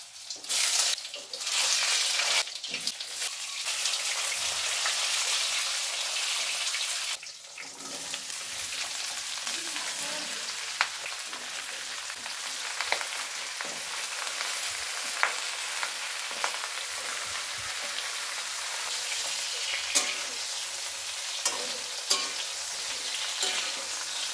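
Vegetables fry in a pan in a home kitchen, giving a loud, dense, continuous sizzle close up with occasional scraping stirs, briefly interrupted by a pause; no voices over the frying.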